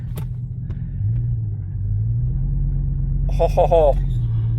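A truck with a swapped-in 5.3 LS V8 idles and pulls away, a low steady engine rumble rising slightly in pitch as it moves, with a voice briefly speaking over it near the end.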